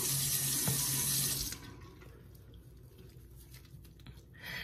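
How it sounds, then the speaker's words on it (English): Water runs steadily from a bathroom sink tap for about a second and a half while a face is rinsed, then cuts to quieter trickles and drips in the basin, with a brief gush returning at the end. "then I'll rinse it off and then I'll go through it again for a second time."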